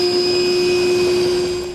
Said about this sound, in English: we're going to use our vacuum to clean up our metal shavings.